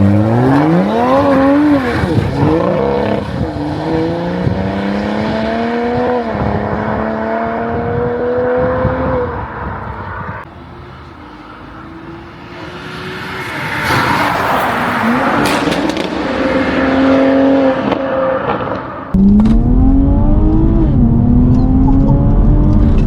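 A tuned 420 bhp Toyota Supra with a 2JZ engine, at Stage 1, pulls hard through the gears from inside the cabin, loud rising revs and shifts with a brief lull before building again.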